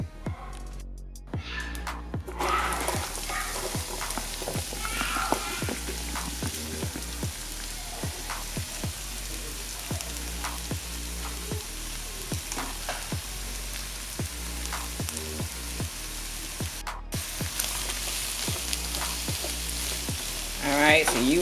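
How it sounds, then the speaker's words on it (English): Vegetables sautéing in a little grease in a pot, a steady close sizzle with frequent clinks and scrapes of stirring throughout, no voices. "we're about to saute them in this pot right here"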